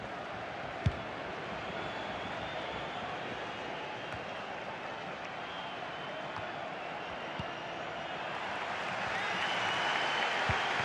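Stadium crowd noise from a FIFA 23 match between CA Osasuna and Real Madrid in LaLiga, a steady broad roar that swells louder toward the end, with a brief sharp knock near the start.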